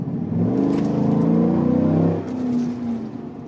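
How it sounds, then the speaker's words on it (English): A V8 fitted with an aftermarket exhaust revs up in a deep, throaty swell, holding a loud close roar for about two seconds before easing off and settling back toward idle. "I have an aftermarket exhaust, and you can really hear this V8 sing."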